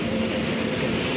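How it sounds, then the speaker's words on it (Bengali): A train pulls into a busy railway platform, a steady heavy rumble with broad roar holding evenly throughout, close and loud with no talk. "ট্রেন তো চলে এলো"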